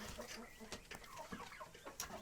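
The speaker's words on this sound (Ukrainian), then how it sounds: "Хто би хотів курей молодих, тогорічних, кугутів." Chickens, young hens and roosters, cluck softly nearby, a scattered run of short clucks and squawks, fairly faint overall.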